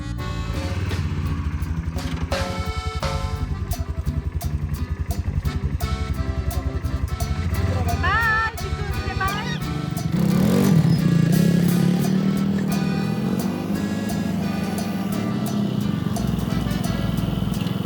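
An ATV engine runs steadily while riding in the Nubra Valley, a continuous close motor drone that swells louder partway through, with wind and clatter over it and no speech.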